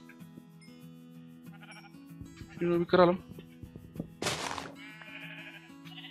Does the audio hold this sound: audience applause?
no